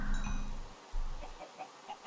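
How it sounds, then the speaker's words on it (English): Chickens cluck in the GT New Horizons modpack for Minecraft, a few short, close, fairly loud clucks in quick succession with brief gaps between them. "So many chickens, I might as well kill some and get the feathers."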